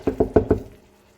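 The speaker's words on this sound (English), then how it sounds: "So give that a good stir." A spoon knocks four times in quick succession against a pot of Nigerian jollof rice while stirring, close and fairly loud, then fades to quiet.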